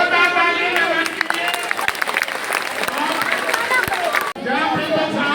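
A school audience claps at a prize distribution for zonal competition winners, producing dense, sustained applause mixed with crowd chatter, with one brief dip near the end before the clapping resumes.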